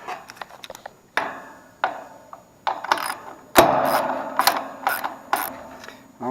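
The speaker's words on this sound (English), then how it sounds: "And we're just going to remove these bolts." Half-inch bolts being loosened on a scroll compressor with a hand ratchet, bursts of sharp clicking pawl ratcheting in short irregular strokes, close and alone, growing busier toward the end.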